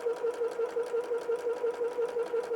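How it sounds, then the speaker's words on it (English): A sewing machine back stitches a fabric tissue pouch with a steady, fast, even whirring buzz, close and alone. "Again, don't forget to back stitch"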